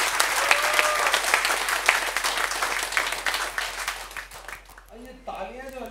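A crowd at a business seminar in Jehanabad bursts into loud, dense applause that holds steady for several seconds, then thins out as a voice begins speaking over the tail end.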